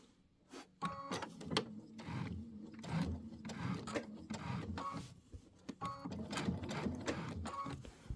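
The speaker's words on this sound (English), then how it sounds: "Let's go ahead and sew it down." A sewing machine stitches dimensional fabric flowers down onto a quilted wall hanging, running in repeated close bursts of rapid mechanical whirring separated by short pauses, with no one talking.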